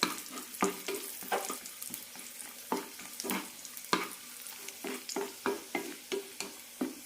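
Nuts and raisins fry in ghee over a low flame, a soft sizzle punctuated by regular spatula scrapes and taps against the pan in an uneven rhythm, fairly quiet throughout.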